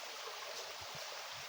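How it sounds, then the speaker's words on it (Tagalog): A small stream flows nearby with a steady, soft hiss of running water. The sound stays even through a short stretch, with a few faint low gurgles and no voices. "hindi inasahan tol na nakakita tayo ng isang sapa dito"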